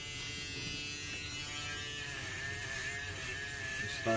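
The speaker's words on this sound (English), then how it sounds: "Now I'm gonna get my shaver." An electric shaver buzzes steadily and continuously at close range during a home haircut, a constant motor hum with no talking over it.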